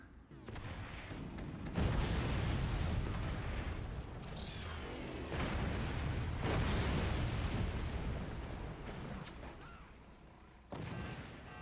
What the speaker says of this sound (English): Nice attempt with the shotgun.